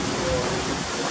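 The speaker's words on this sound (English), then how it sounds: "Here's the waterfall, and let me pan out here." An indoor waterfall in a resort hotel lobby pours with a steady, dense rushing wash, close and fairly loud, with a voice faintly present beneath it.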